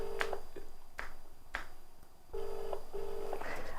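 Outgoing phone call on a mobile, with repeated ringback tones in short bursts and brief clicks between them, close and alone with no speech.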